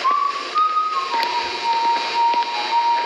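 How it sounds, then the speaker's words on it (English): Someone whistles the ending song from the video game Five Nights at Freddy's. The tune is a clear, steady melody of held notes and short phrases, close and fairly loud. "He's whistling the Fnaf ending song."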